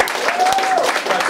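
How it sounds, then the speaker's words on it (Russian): Audience applause at a live stage show in Astrakhan, a short burst of steady clapping from the crowd after a volunteer is called up, with a faint whistle-like tone sliding over it. "Ваши аплодисменты."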